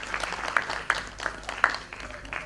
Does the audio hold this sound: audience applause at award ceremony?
yes